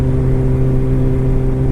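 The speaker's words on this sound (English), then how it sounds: "Perfectly tuned exhaust." Steady, close engine drone from a 2009 Kawasaki Ninja ZX-14 motorcycle with a tuned Kaufman exhaust, holding an even pitch briefly with no voices.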